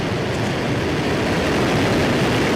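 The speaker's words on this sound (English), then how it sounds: "Liftoff." A SpaceX rocket lifts off with a continuous broadband roar that rumbles strongly in the low end, steady and loud throughout, without voices.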